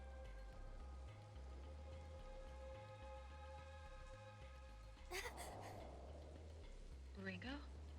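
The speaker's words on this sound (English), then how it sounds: "Just started raining over here." Soft, steady rain patters in a video game under a quiet sustained musical tone and low pulsing beats, with a couple of brief chirping sweeps.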